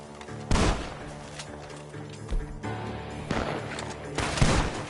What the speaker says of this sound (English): The gunshots are coming from the...